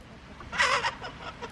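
A brief, close cluck from a chicken rises over a quiet background, followed by a few softer clucks.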